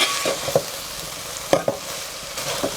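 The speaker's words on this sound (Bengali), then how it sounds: "এখন আমরা এগুলোকে নেড়ে চেড়ে মিক্স করে নেব।" A spoon stirs vegetables with cumin and spices in a cooking pan, giving a few sharp scrapes and knocks against the metal over a soft, low sizzle, with no talking.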